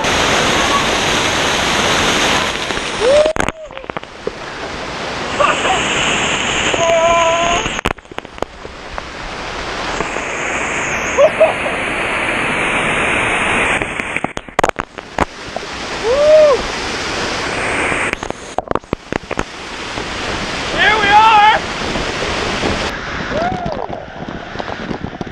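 A waterfall near a small cave along a walking route, heard as a loud continuous rushing roar that swells and cuts out several times, mixed with wind buffeting on the microphone and a few brief voices.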